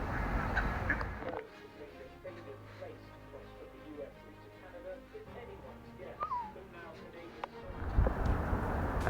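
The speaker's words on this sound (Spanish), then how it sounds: "Los patos me cortan el tráfico." Ducks and geese honk and quack in a noisy squabble over a piece of bread, the calls rising and falling at close range over a low background hum, with someone speaking at points.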